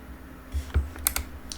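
Computer keyboard keys clicking in Microsoft Flight Simulator 2020 after landing at Southport Airport, a few quiet, separate taps spread across a low background hum, with no talking.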